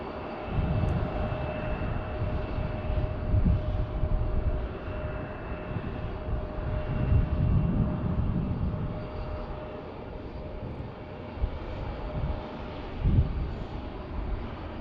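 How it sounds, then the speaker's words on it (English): A FedEx airplane taxis at Tucson International Airport in the desert, a steady distant jet engine whine and rumble with a constant tone, wind buffeting the microphone. "So FedEx is taxiing out right now."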